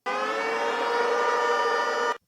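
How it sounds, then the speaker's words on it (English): A loud siren wails in one steady sustained tone for about two seconds as a fan giveaway signal on sports talk radio, then cuts off abruptly. "once you hear this siren right here,"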